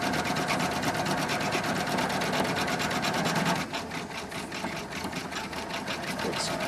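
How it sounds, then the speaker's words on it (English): A sewing machine stitches a North Pole Village train station sign in a steady, fast, loud mechanical drone that dips slightly partway through and keeps going without pause. "This is the last minute of stitching."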